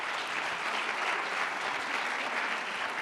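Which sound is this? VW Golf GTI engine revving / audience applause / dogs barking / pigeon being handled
audience applause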